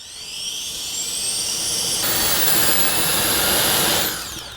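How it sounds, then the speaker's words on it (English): A small ProSmoke handheld air blower fanning charcoal to heat the coals before searing steak, a loud whining motor hum that rises in pitch, roars steadily for a few seconds, then cuts off. "This is a little hand air blower thing from ProSmoke, and it is insane."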